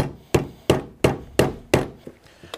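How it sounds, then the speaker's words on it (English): Five sharp hammer taps on folded leather being flattened while building tapaderos, evenly spaced and close, followed by a couple of lighter softer knocks. "give them a little tap with the hammer so they can lay down really nice and flat"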